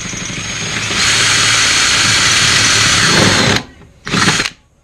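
Power drill enlarging an existing hole in a car door, a loud steady high-pitched whir for about three seconds, then a pause and a short second burst, no voices.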